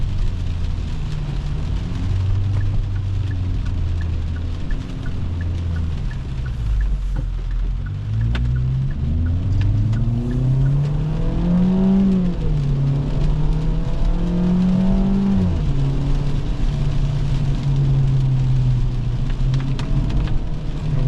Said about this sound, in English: the engine's got plenty of power for this light little Veloster